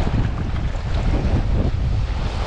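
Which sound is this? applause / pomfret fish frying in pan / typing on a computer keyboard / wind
wind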